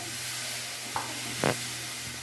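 Spices being stirred in a pan with a splash of water, a steady low sizzle with a couple of brief scraping stirs standing out, alone without voices.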